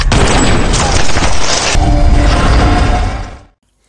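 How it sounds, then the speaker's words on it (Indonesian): Sustained loud burst of gunfire and booms in an action film scene as henchmen open fire, dense and continuous for about three seconds before cutting to silence. "Anak buah Pak Erik yang sudah merasa yakin dengan posisi Subas, langsung melepaskan tembakannya."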